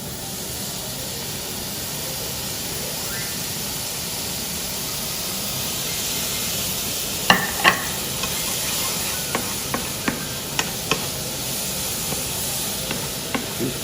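Cauliflower rice cooking with mushrooms in a pan, giving a steady close sizzle and hiss as mushroom juice is added, later joined by a series of sharp utensil clicks and scrapes against the pan.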